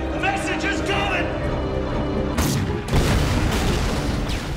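Explosions and gunfire from a TV drama's battle scene, loud booms and crackling bursts layered over a dense soundtrack, with a heavy blast near the middle followed by sustained rumbling fire.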